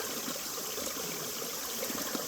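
Mountain valley stream at Suraksan flowing over rocks, a steady, dense rushing and gurgling of water heard close and continuous throughout, with no voices.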